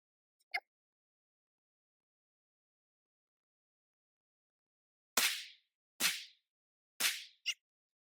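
Three sharp gunshot cracks from a 48 MOS ring out about a second apart, each decaying quickly against near silence, with a fainter snap before them and a small click just after.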